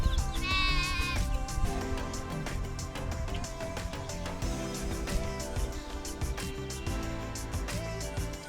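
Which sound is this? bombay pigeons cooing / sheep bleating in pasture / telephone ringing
sheep bleating in pasture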